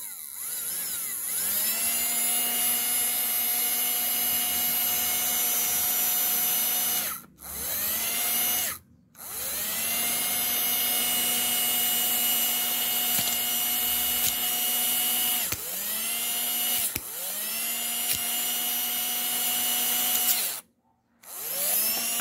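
A 550 DC motor whirs loudly and steadily during a stall current test, its pitch rising as it spins up, with several short cuts where it stops and restarts.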